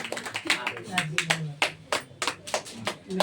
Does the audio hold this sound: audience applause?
yes